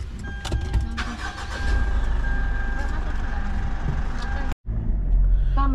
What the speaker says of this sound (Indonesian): Guys, kita panasin mobil dulu.